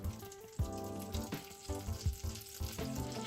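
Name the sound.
butter melting and sizzling in a pot on medium heat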